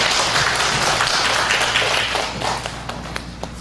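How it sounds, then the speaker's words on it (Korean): A church congregation claps at a worship service, a dense burst of hands heard from within the crowd that thins toward the end, with a few individual claps standing out. "단상을 보실 때 큰 박수 부탁드리겠습니다"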